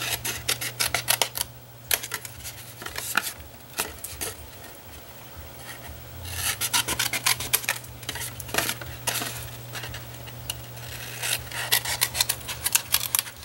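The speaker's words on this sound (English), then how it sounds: "we're going to cut that off on all 4" Scissors cutting cardstock off all four sides of a Stampin' Up scalloped tag topper box, heard as a series of close, crisp snips and paper rustles, no talking.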